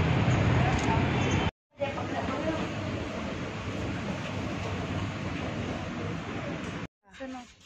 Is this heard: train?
yes